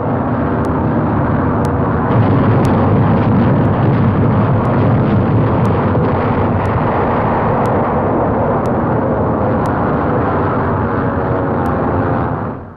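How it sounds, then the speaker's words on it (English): Heavy wartime bombing pounding the invasion area of France in 1944, heard as a loud, continuous rumbling roar with dull booming blasts on an old newsreel soundtrack, dense and unbroken from start to finish. "the merciless pounding of the entire invasion area continues."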